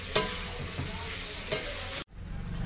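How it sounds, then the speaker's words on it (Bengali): Chalta (elephant apple) pickle with jaggery is stirred in a pan over a low gas flame, a spoon scraping with a few distinct knocks over a soft continuous sizzle, close and fairly quiet. "এবার আমি গ্যাসের ফ্লেমটা আস্তে দিয়ে নাড়তে থাকবো।"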